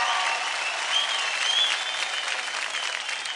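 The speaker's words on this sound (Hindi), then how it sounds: "जोरदार ताली हो जाए" Thunderous audience applause on a televised Indian dance competition stage after a couple's dance performance, a dense, steady wash of clapping that stays loud and even throughout with no voices over it.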